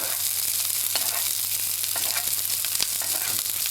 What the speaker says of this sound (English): in goes the thyme. It'll crackle as it gives off its beautiful flavour